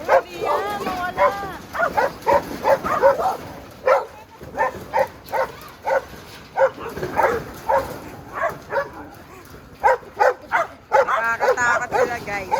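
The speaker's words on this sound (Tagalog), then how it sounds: "Mga exotic yung mga aso dito eh." Several dogs bark repeatedly nearby in an irregular, excited volley, with some yips and whimpers, while people talk over and between the barks.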